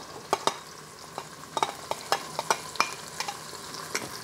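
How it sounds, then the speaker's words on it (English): Onions and garlic sauté in a pan after pork has been browned, giving a soft steady sizzle broken by a series of sharp spatula taps and scrapes, close and without talk. "Once you get the pork out, add the onions and the garlic."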